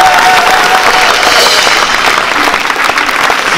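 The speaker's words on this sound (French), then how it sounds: "J'aimerais qu'on acclame pour Papa Blaise" Loud, sustained applause with cheering from an audience honouring Papa Blaise, a dense, close wall of clapping that carries on steadily without pause.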